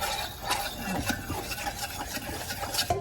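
A spoon stirs a free-range, antibiotic-free duck egg yolk into a mixture in a bowl, giving a continuous close scraping and swishing with faint clinks, fairly quiet and with no talk.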